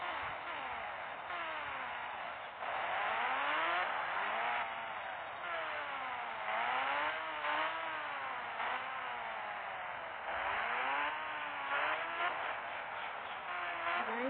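A vehicle's engine whines and rises repeatedly in pitch as it speeds up through several gears, a steady droning motor heard from inside, muffled and moderately quiet, with no talking.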